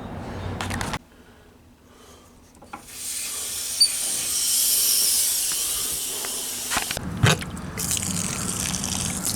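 Water overflowing from a full RV fresh water tank, a steady hissing rush that swells for several seconds and settles, heard close with small clanks around it and no talk.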